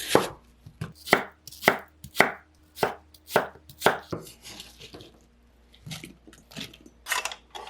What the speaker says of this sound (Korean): 사과는 당근과 비슷한 크기로 깍둑 썰기 하세요.